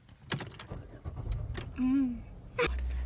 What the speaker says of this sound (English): Now, start your car.